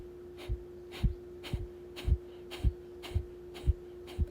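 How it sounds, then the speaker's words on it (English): Rhythmic yoga breath of fire: about nine sharp, forceful nasal exhalations pumped at a steady pace of roughly two per second, close to the mic, over a faint constant hum. "breathing out through the nose,"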